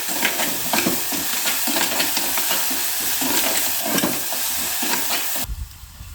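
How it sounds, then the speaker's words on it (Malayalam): Onion sautéing in a pan gives a steady close sizzle and hiss with rhythmic scraping strokes of a stirring utensil, fairly loud and continuous before the sound drops away abruptly near the end. "ഉള്ളി ഏകദേശം വഴന്നു."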